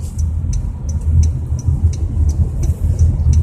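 A car drives on a main road in Roi Et, Thailand, during a driving lesson, with a steady, close engine rumble that builds slightly as it speeds up. A faint rhythmic ticking sounds over the engine note.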